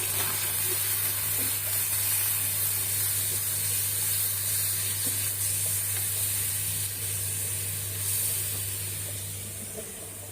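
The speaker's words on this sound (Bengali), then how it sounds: "একটু মাছটা ভুনা করবো।" Kachki fish with turmeric, chilli, coriander-cumin powder, ginger-garlic paste and salt being fried in a pan, a steady close sizzle and hiss holding for about ten seconds with a low hum beneath and no talking.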